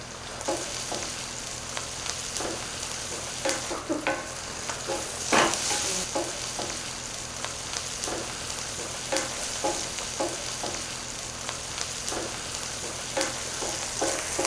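Onions fry in a pan for vegetarian lentil soup and are already starting to burn. A steady, close sizzle runs throughout, broken by repeated scraping stirs of a spoon against the pan.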